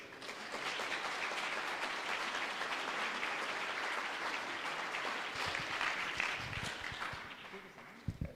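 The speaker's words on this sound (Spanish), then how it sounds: "Un aplauso, por favor," An audience applauds a book's author at a book presentation, a dense, steady wash of clapping that holds for several seconds, with a few sharper individual claps and a voice briefly heard near the end.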